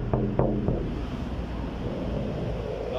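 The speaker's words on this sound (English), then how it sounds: "Now the wind picked up" Wind blows outdoors as a steady, broad rushing roar with low rumble buffeting the microphone throughout, and no talking.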